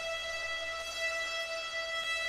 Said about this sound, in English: Here's distortion into the reverb.